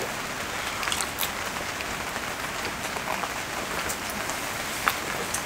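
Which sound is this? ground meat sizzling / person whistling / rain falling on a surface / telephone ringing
rain falling on a surface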